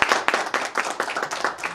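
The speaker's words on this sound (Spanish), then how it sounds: "Un aplauso." Audience clapping at a drainage inauguration ceremony, a dense burst of hand claps from a nearby crowd, steady and lively for the whole stretch with no talking over it.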